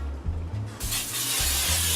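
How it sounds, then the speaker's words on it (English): Cooking spray is released from a can into a pan in a home kitchen, giving one steady, loud, close hiss that swells and carries on for a couple of seconds, with faint low clunks underneath. "I'll put cooking spray in here"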